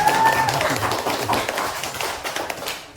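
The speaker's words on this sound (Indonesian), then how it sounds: "Nah, coba kasih tepuk tangan dulu." Students in a chemistry classroom clap their hands, a brief, uneven burst of nearby clapping that gradually thins and fades out at the end.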